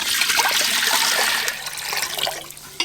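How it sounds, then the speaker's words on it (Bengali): Water pours steadily into a cooking pot for biryani rice, a continuous splashing stream alone and close that eases slightly before a short final splash. "জল"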